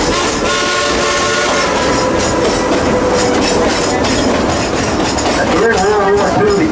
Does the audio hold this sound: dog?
no